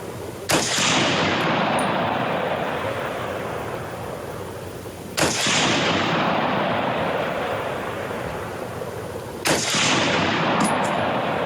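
A rifle fires at a target: three loud, sharp reports spaced a few seconds apart, each followed by a long rolling echo that slowly fades outdoors.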